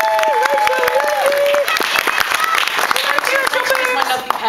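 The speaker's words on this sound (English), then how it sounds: "Big round of applause for Rachel." A large audience applauds and cheers at a convention stage show, dense continuous clapping filling the whole stretch at close range, with a presenter's voice and cheers mixed in.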